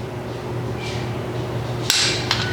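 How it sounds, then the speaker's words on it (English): A single sharp click from a torque wrench reaching its set torque on an engine cover bolt of a Triumph Street Triple R motorcycle, close and distinct over a low steady hum, followed by a fainter second tick. "the wrench will make a pop sound when we get it to the right tension"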